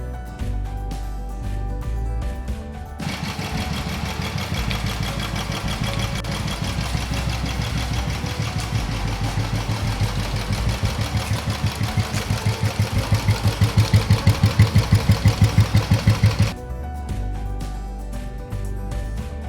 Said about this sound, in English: start the bike and keep it running for at least 5-10 minutes